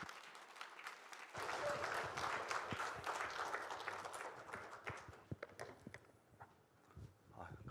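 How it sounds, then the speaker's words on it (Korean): A church congregation claps in welcome as a missionary comes forward, a dense round of applause that swells after a quiet start, then thins into scattered claps and fades, with faint voices in the background. "다 같이 저희 선교사님 나오실 때 박수로 환영해 주시면 감사드리겠습니다."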